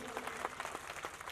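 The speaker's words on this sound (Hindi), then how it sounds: "एक बार जोरदार तालियां बजाइए।" Applause from an audience welcoming a guest at a school's annual function, a steady wash of many hands clapping together for a brief stretch.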